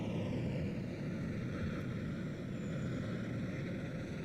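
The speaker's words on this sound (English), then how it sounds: "That's got to be quite a heavy aircraft." A heavy fighter jet carrying large drop tanks at an air show, its steady loud engine roar holding throughout without pause.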